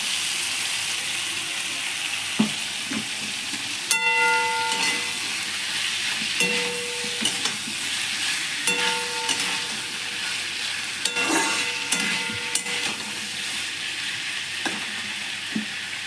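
Tomatoes, green chili and boiled taro stolons stir-fry in a pan with a constant hiss and sizzle, punctuated by repeated clinks and scrapes of a spatula against the metal.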